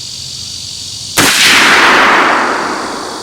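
A single sharp rifle shot from a SIG Cross at a shooting range, loud and close, with a long fading echo after a quiet lead-in.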